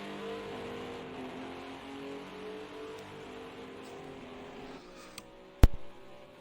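GT4 race cars circulating at Donington Park, a steady droning engine note sustained throughout with a sudden sharp knock near the end, moderately loud and without talk.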